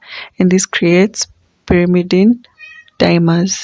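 Pet house cats meow close by several times in quick succession, their calls interleaved with a person speaking indoors.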